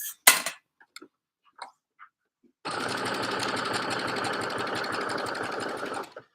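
After a few soft taps, a sewing machine runs steadily for several seconds, stitching jersey fabric for joggers, a close, even mechanical chatter that cuts off cleanly.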